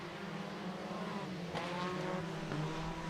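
Modified and sport compact race cars roar around the Interstate Speedway oval, a steady engine drone with harmonic whine and rising passes, loud and continuous with no talk.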